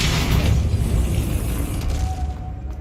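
A Depulso spell cast in the Hogwarts Legacy video game gives a loud, dense burst at the start that rumbles on for a couple of seconds, then thins into a faint ringing tone.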